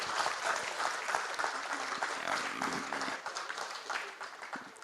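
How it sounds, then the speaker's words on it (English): Sustained applause from a crowd at a hospital seminar hall inauguration, steady clapping that fills the whole stretch and tapers slightly near the end. "please give big round of applause"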